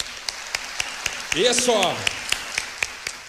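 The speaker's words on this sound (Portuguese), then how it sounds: "salva de palmas para quem falou aí." An audience at a talk claps in sharp, evenly spaced beats, fairly sparse and steady, while a person speaks briefly over the rhythm.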